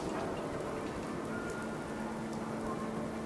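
Steady rain falls in Fallout 4's wasteland, a dense, even hiss of drops pattering on surfaces that holds at the same level throughout with no voices.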